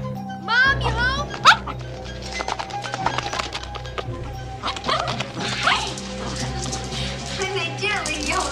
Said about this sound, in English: Dog. You're a good dog.